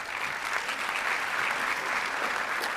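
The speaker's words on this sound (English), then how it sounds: "Please, let's give them a round of applause." An audience at a college convocation ceremony claps steadily, a dense and even wash of applause that holds throughout with no voices above it.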